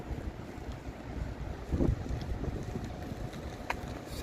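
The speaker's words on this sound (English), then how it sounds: "Sounds cold and windy." Wind buffets the microphone in low, rumbling gusts during a first-snowfall walk between Ottawa and Hull, one stronger burst midway, with faint water-like noise underneath and no talking.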